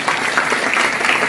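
Brief burst of audience applause at a personality development talk, loud and dense clapping from many people throughout the short moment.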